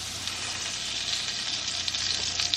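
Batter sizzles steadily in a pan of browning butter for a breakfast dish, a continuous close, bright crackling hiss with small pops and no voices.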